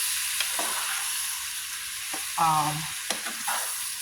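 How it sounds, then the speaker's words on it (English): Dumplings sizzle steadily as they fry in a hot pan, with a few soft scrapes and taps of a utensil stirring, and a brief ringing clink midway. "I'm gonna gently stir it"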